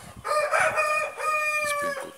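Chickens cluck and a rooster crows loudly and close by on a windy farm, one sustained crow running through most of the moment.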